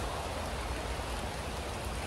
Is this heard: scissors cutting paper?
no